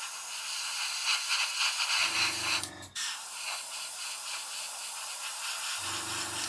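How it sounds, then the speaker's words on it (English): An airbrush sprays paint in a steady close hiss with a brief break in the middle, while a low compressor hum cuts in and out twice in the background. "And then bring the airbrush a bit further away."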